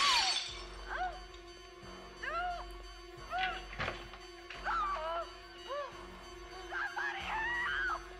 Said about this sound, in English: Break through the glass.